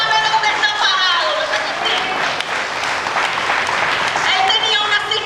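Congregation at a Sunday morning church sermon clapping for the Lord, loud sustained applause mixed with excited voices and a speaker talking over it.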